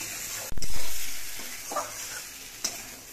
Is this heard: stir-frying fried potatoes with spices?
yes